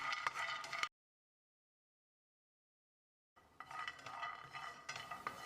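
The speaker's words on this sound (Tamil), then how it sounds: "50 கிராம் அளவுக்கு பாதாம், இதையும் ஒரு 2 நிமிஷம் அளவான தீயிலேயே வறுக்கணும்." Almonds dry-roasting over a low flame in a pan with a little ghee, stirred in two quiet spells of soft scraping and light clinks separated by a silent gap.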